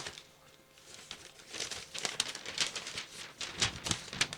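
A large sheet of paper listing the Casio CT-X700 keyboard's tones crinkles and rustles as it is unfolded, a series of crisp crackles building and continuing up close with no talking.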